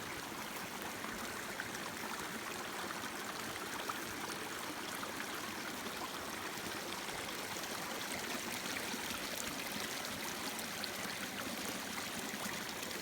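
A creek flows steadily with a continuous broadband rush of running water, close and constant throughout, with no voices.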